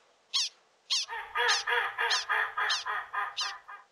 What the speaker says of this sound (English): I forgot about all the birds this time of year!